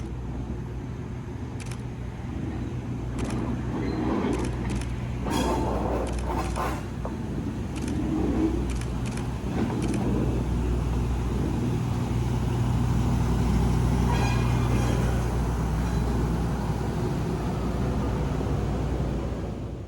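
MBTA stone train locomotives move along a runaround toward a switch, their deep diesel engine drone steady and fairly near, with scattered sharp metallic clanks and rattles over it.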